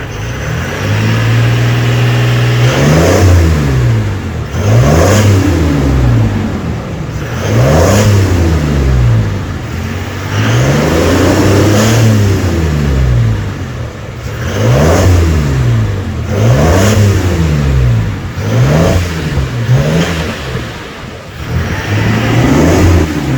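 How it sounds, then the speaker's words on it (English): A Toyota Land Cruiser 300 Series with a newly fitted exhaust runs in park. Its loud, steady engine note is broken by a series of rhythmic rev blips that rise and fall, with no talking. "we'll bring it down, we'll fire it up and have a little listen to what we've got."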